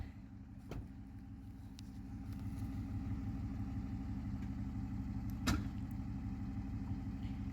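A Ford F-150 truck in four-wheel drive strains steadily against a tree, its engine holding a continuous low rumble throughout, with a sharp knock near the start and another midway.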